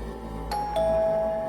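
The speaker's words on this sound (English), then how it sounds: "The doorbell chimed." A doorbell chimes twice in a quiet house at night, two clear electronic tones a moment apart, the second held and ringing on alone with no one talking.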